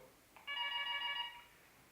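A telephone gives a single short electronic ring of about one second, faint and alone against quiet room background.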